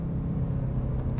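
A Mercedes-Benz E63S AMG with a Brabus kit in track mode gives a short, loud engine roar with quick revving pulses as it drops through several gears.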